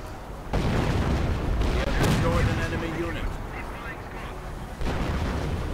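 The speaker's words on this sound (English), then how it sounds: "Artillery going in against the heavy machine gun." Video game artillery shelling a heavy machine gun position, with gunfire, rumbles in a dense, continuous barrage, with booming blasts and crackling shots layered into a loud, chaotic battlefield din.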